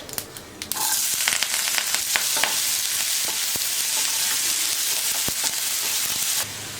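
Onion, mustard seeds, cumin and curry leaves frying in oil left from frying taro, a sudden loud burst of sizzling that settles into a steady crackling hiss with scattered sharp pops and stirring, close by.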